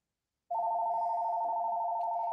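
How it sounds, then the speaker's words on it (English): A telephone rings during a wool and felting supply shop tour, a single steady electronic tone that starts abruptly and holds, fairly faint, with no talk over it. "Sorry for the phone."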